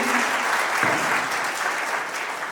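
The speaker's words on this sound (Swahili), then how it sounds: "Makofi mengi." Audience applause at a Kiswahili Day ceremony in Bujumbura, a dense, steady clapping from a crowd that keeps up the whole time at fairly high volume.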